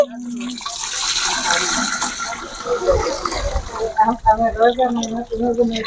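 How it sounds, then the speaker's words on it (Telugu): Milk is poured in a steady gushing stream into a pot of rice being cooked in bulk for a village meal, close and loud, then breaks into splashy gurgles near the end. "మా మామయ్య నేను పాలైతే పోస్తున్నామండి"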